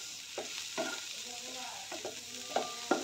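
Cauliflower leaves and garlic frying in a little oil in a pan give a soft steady sizzle, broken by occasional scraping stirs of a spatula, close and quiet with no voices.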